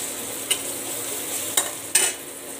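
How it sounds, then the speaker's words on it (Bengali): Dried red chillies sizzling in hot oil with onion and garlic for tempering, a steady bright crackle close by, punctuated by three quick spoon or spatula stirs against the pan. "আর এখানে দিয়েছি শুকনো লঙ্কা ফোড়ন, পেঁয়াজ আর রসুন।"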